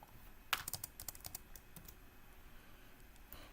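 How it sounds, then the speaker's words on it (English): Keys on a computer keyboard clatter in a quick burst of taps, then a few scattered presses follow, close and fairly quiet, with no voices. "So I'm going to keep typing here."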